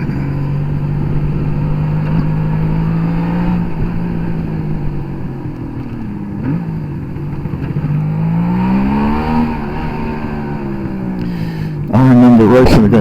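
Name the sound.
Suzuki GT750A motorcycle engine on road test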